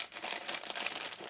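Plastic bag of LEGO pieces for a Christmas Santa's Visit set (10293) crinkles and rustles up close in short irregular bursts, with no talking.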